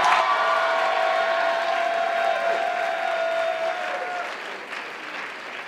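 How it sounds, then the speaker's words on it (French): A crowd applauds a group cosplay contest at the Japan Impact 2020 convention, steady dense clapping with a few whistles, slowly fading toward the end. "on va accueillir bien fort, sous vraiment un tonnerre d'applaudissements, pour ce dernier groupe, le groupe de Steven"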